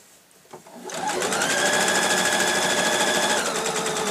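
A sewing machine stitches the seams of a zippered, lined tote bag, starting up after a brief knock and then running steadily and loudly at high speed for several seconds, close by.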